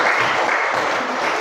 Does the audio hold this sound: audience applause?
yes